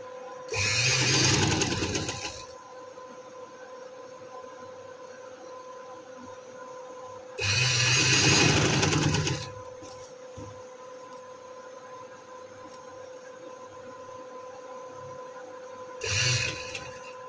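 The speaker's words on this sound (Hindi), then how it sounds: "इस तरह से हम इसे दरमियान में रख के सिलाई लगाएंगे आस्ता आस्ता से" A sewing machine runs on trouser fabric for pintuck detailing in three separate stitching bursts, each a few seconds long, over a steady background hum.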